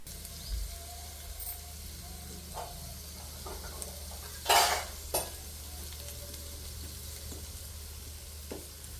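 Ivy gourd curry frying in a pan on the stove gives a soft continuous sizzle, with a few louder scraping stirs of the spoon near the middle and occasional light clinks.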